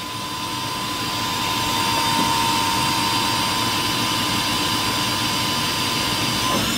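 A Doosan Puma MX-3100 machine spindle running at 3,000 RPM gives a steady, loud, continuous whine and rushing hum with a faint high tone, unchanging throughout, with no talk.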